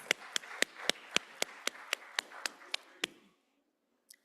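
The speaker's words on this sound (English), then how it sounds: "One more round of applause for our awesome students." Applause for students at a school board meeting comes as a run of about a dozen crisp, evenly spaced claps that stop abruptly, followed by one last faint clap.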